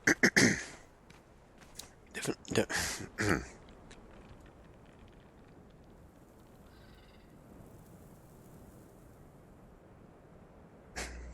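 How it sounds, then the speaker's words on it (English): A few short, harsh throat-clearing bursts up close in the first few seconds, then near quiet with faint room noise and a small sound at the end. "Gotta clear my throat."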